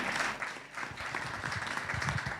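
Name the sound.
conference audience applause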